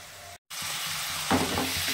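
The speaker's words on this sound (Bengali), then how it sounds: "একটু সময় দিয়ে কষাবো।" Spice paste for a thin foli fish curry sizzles loudly in a pan with a continuous hiss, one brief dropout, then a burst of stirring scrapes; no talking.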